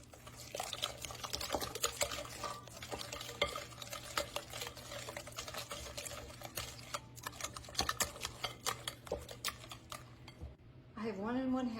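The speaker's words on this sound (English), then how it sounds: "In a bowl, I'm going to whisk together the sugar, 3 eggs, a half a cup of oil, 2 teaspoons of vanilla," A whisk stirring sugar, eggs, oil, vanilla and sweet potato puree in a bowl, a steady quiet scraping and sloshing rhythm with faint clinks, a voice briefly heard near the end.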